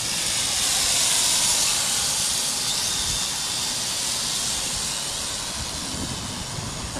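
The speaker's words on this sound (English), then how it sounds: "I'm getting a lot of crosswind right now" Wind buffets a microphone on a Syma X8C drone in a stiff crosswind, producing constant low rumbling and a broad hiss that swell and ease slightly throughout.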